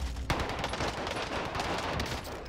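Loud, rapid automatic gunfire from Call of Duty Warzone on Rebirth Island rattles in one sustained, dense burst.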